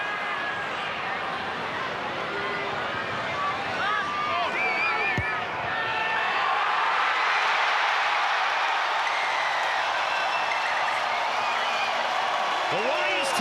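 A rugby league stadium crowd roaring after a winning goal, New Zealand Warriors against Sydney Roosters: a broad, sustained cheer that swells and holds loud, with a commentator talking over it.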